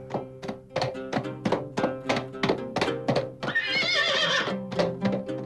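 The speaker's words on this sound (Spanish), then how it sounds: "El caballo" A horse whinnies loudly and close, a long wavering neigh standing out between a steady run of heavy, rhythmic thunks like hoofbeats on hard ground.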